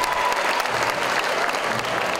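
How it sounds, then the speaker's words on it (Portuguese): Dense, steady applause from a large audience filling a hall at a Christmas nativity show rehearsal, continuous and loud throughout with a faint crowd murmur beneath. "Na plateia, uma multidão e muitos aplausos."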